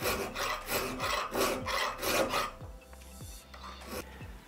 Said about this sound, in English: for this work I prefer to use a semi-round file, and then with the round surface I can easily take out the second tooth.